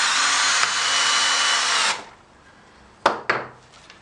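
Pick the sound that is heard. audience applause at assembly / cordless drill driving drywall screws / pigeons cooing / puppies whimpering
cordless drill driving drywall screws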